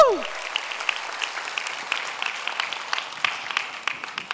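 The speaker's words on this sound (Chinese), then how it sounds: "那我们给公司个掌声" Audience applause for a company at an Atomy business presentation, a steady patter of many hands clapping throughout, fairly close and full.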